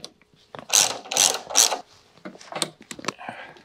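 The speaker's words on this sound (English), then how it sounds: "I'll use a torque wrench for that. Just getting it snugged up for now." A wrench ratchets close by in three loud bursts of clicking while it snugs up battery cable connections, followed by a few lighter, quicker clicks.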